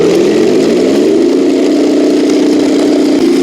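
RC King Tiger tank driving at full throttle, a loud, steady electric motor whine with rattling tracks that rises in pitch at the start and then holds constant, close and continuous.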